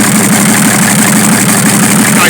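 A Chevrolet D60 truck engine, still cold, idles with a loud, steady, close-up rumble that holds even and unbroken throughout.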